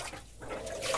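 Water sloshes and splashes briefly as the arm of a Bosch washing machine turns it over, a quiet, short liquid churning with no voices.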